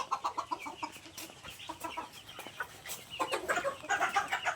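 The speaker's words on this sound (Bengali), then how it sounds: "ও যে দেশি মুরগি যেগুলো ডিম দিচ্ছে।" Desi laying hens on a small chicken farm cluck and squawk nearby in irregular bursts, several birds calling at once, growing busier toward the end with no talk over them.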